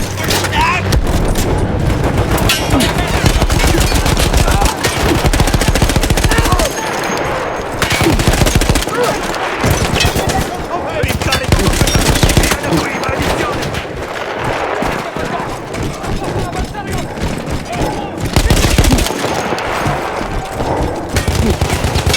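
A machine gun firing in the Battlefield 1 video game, loud close bursts of rapid automatic fire broken by short pauses, amid other battle noise.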